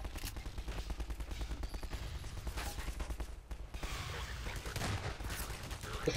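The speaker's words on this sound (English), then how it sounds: "This is ridiculous, I'm getting shot." Gunfire in Half-Life 2, rapid automatic shots rattling in steady streams with a brief lull midway, close and sharp over low rumbling game ambience.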